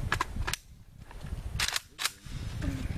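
A handful of sharp gunshots crack at outdoor target practice, spaced irregularly, with muffled talk underneath.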